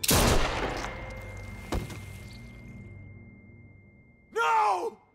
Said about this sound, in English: They really shot her.